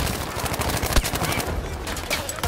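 Rapid gunfire bursts rattle through a shooter video game, a dense run of loud, close shots.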